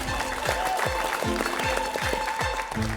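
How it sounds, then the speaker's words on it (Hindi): Studio audience applause during a Hindi reality game show, a steady wash of clapping under a repeating thumping music beat, filling the whole span at even loudness. "एक बार जोरदार तालियां"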